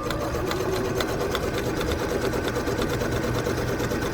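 A sewing machine runs continuously, stitching a backpack at a fast, even rhythm of needle strikes over a mechanical hum. It sounds close, with no speech.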